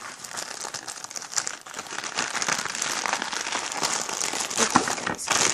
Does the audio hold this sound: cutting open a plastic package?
yes